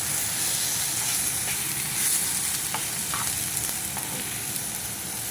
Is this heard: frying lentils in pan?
yes